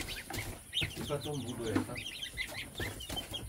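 Young goslings and a chick peep in a cluttered, busy pen, a steady scatter of high chirps with clucking fowl mixed in, while someone speaks briefly over them.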